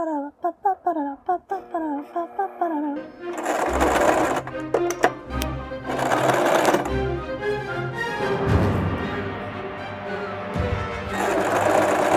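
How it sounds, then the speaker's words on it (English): Domestic sewing machine top stitching folded fabric for a corset skirt: after a few short plucked notes, loud close motor runs whir in bursts with brief pauses and clicks, no talking. "pin it like that, and then we're gonna top stitch it"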